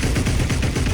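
Video game gunfire rattles in a dense, steady rapid burst, loud and close, with no speech over it.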